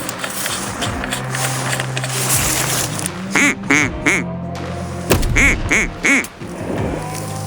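Ducks quack in clustered bursts as they fly in over the Yukon River during a hunt, several calls sounding close and loud, with a faint low engine hum and some handling noise beneath.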